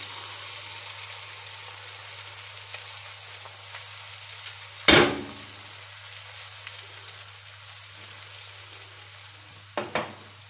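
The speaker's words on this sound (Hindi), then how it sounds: "अब मैं उसमें डालूंगी बीट किया हुआ अंडा और इसे पैन में अच्छे से फुला देंगे." Beaten egg fries in hot oil in a pan with a steady, even sizzle throughout, broken by one sharp clank midway and a couple of lighter knocks near the end.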